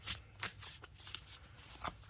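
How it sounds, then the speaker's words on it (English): Tarot cards are shuffled by hand close up, a steady papery riffle broken by several sharper flicks and slaps of the deck. "I decided to do a live shuffle."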